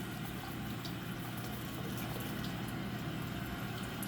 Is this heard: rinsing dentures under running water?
yes